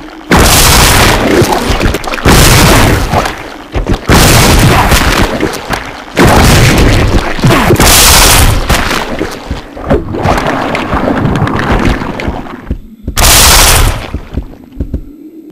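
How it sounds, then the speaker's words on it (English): Grenade launcher explosive rounds from Resident Evil Zero slam into a leechman as a series of loud, heavy booms, about seven blasts spaced a second or two apart, each with a dense roaring tail. "with explosive rounds, that took 7 grenade rounds"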